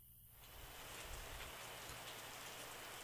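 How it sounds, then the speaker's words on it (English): Rain falls in the winemaking game Terroir, a faint, even hiss of steady rainfall that swells in after a brief quiet start and holds at a constant low level. "Starting to rain now."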